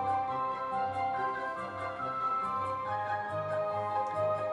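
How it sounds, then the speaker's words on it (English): Comedy film score plays with a fast, busy violin figure running over sustained orchestral chords and a low pulsing bass, moderately quiet and steady throughout with no voices. "violins are doing a fast thing which sounds like this"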